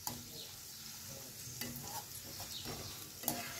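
Potato chips frying in oil in small batches, a continuous close sizzle broken by a few sharp scrapes and clinks of a spatula.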